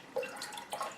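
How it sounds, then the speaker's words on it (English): Cool water trickles into a Pyrex measuring dish in a kitchen, making a few faint, close drips and small splashes within about a second. "So now we're putting some cool water in"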